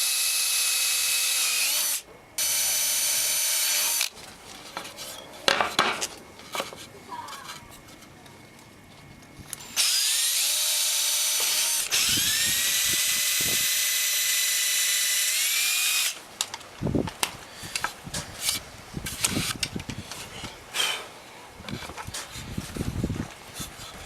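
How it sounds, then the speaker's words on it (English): A power drill whines in several bursts while drilling holes in wood, each high-pitched run starting and stopping, with short pauses and clatter between them, close up. "So we'll go ahead and drill all 4 holes."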